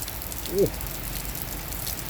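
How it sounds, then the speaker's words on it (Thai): Rain falls steadily on a home vegetable garden beside a house, a soft broadband hiss throughout, with a brief voice sound near the start. "ฝนกำลังตกเข้าสวนผักข้างบ้านเลยครับเนี่ย"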